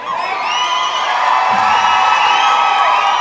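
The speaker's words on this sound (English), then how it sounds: "you can probably already hear the crowd even through our mics here" A crowd in a roller derby arena cheers and whoops loudly, with shouts and high voices rising over a sustained roar that stays close and constant.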